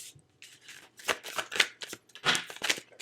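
Tarot cards being shuffled and pulled from the deck, a run of crisp riffling bursts and soft slaps up close, bunched in quick flurries with short pauses between, with no voices over them.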